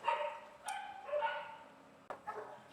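A dog barks and yips indoors at moderate distance, a few sharp barks with whimpering tones between them, followed by two quick barks near the end.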